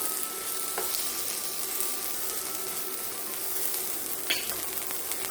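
Half a Vidalia onion sizzles steadily in a hot pan, a continuous close hiss with a couple of brief clicks of utensils against the pan, no voices.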